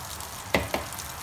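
Butter melting in a hot frying pan, about to sauté borazan mushrooms, gives a low steady background with two short sizzling bursts spitting up close, no talking over it.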